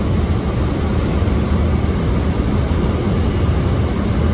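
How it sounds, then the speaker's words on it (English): Steady, loud broadband roar of an Airbus A330 landing in fog at Milan Malpensa, heard from the cockpit as a constant engine and airflow rumble with no talk. "Watch this Airbus A330 navigate a foggy, low-visibility landing at Milan Malpensa from the cockpit view"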